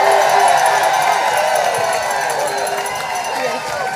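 A crowd at a nighttime protest rally cheers and applauds loudly, a dense close wash of clapping and shouting that eases slightly toward the end.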